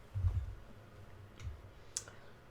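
A computer mouse clicks a few times while content is opened online, giving sharp isolated ticks at about two-second spacing over a quiet room with a low hum.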